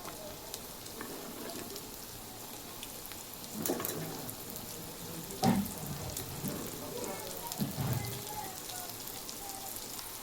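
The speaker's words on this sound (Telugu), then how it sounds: "ఇప్పుడు దొండకాయ ముక్కలు కూడా వేయించేసుకున్నాము" Ivy gourd pieces and eggs fry in a pan, giving a soft, continuous sizzle with scattered crackles and a few louder stirring knocks, close but fairly quiet.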